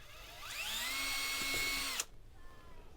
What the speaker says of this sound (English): I'm just going to drill some pilot holes just right through here